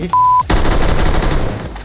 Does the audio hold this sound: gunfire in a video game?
yes